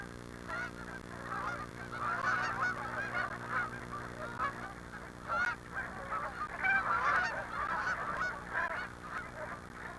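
A large flock of migratory geese honks continuously in the Alaskan wilderness, many overlapping calls near and far forming a dense, steady clamor with no speech.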